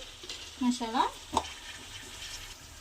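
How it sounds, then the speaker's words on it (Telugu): Masala paste stirred into a fish curry (sandhuva fish iguru) frying in a pan, giving soft scraping and gentle sizzle in short bursts, fairly quiet and close with no talk. "దీంట్లో మసాలా ముద్ద వేస్తున్నానండి"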